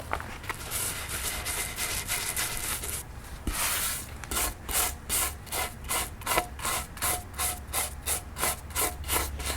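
A brush sweeps spilled candle wax off a tabletop in quick back-and-forth strokes. The scrubbing is dense and continuous at first, then settles into an even, regular rhythm of distinct swishes, close and clear.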